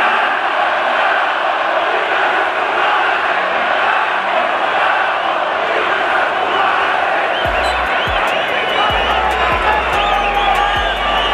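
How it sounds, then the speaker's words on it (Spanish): A stadium crowd at a Chivas football match keeps up a steady roar of jeers and pressure aimed at the coach. Near the end it grows denser, with claps and shouts, and a voice talks over the crowd. "la gente metiendo presión sobre Fernando Gago"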